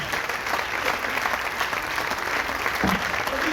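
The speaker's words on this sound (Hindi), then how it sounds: "तालियां जरा मन से हो रही।" Applause from an audience at a Hindi poetry recital in Mumbai, a steady dense clapping that fills the whole stretch, with a brief low voice near the end.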